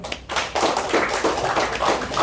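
Audience applause during a health talk on therapy devices in Indonesia, a steady patter of many hands clapping that stays moderately loud and fairly even for a couple of seconds.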